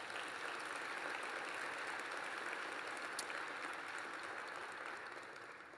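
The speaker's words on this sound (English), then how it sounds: "Can we give him another round of applause?" Audience at a conference plenary giving a round of applause, a continuous, evenly spread clapping from a large crowd, quiet and distant, gradually tapering near the end.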